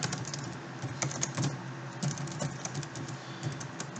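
Quick, irregular keystrokes on a computer keyboard while C++ code is typed, close and clear, with a few louder clacks. No voices.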